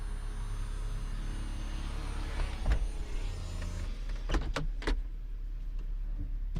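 The powered convertible top of a 2012 Chevrolet Camaro SS runs with a steady electric motor whir over a low hum, followed by a few sharp mechanical clunks as it latches near the end.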